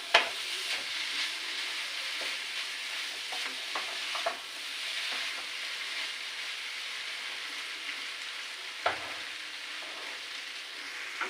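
Chowmein noodles being stir-fried in a pan with previously fried potatoes, a soft continuous sizzle broken by scraping stirs and occasional spatula taps, heard close and alone.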